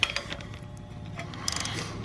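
A wrench ratchets and clicks while flywheel bolts on a budget hatchback's drivetrain are tightened to 90 foot-pounds, a quick run of close mechanical clicks with no voices.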